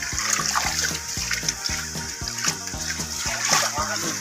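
Feet wade and splash through flood water on a street after heavy rain, a steady run of sloshing splashes close by, with a voice and other talk mixed in underneath.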